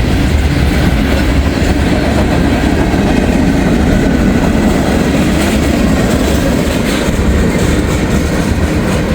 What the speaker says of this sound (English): An old cut of boxcars here at the end of the train.